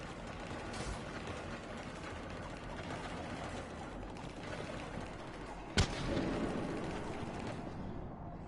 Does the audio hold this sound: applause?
no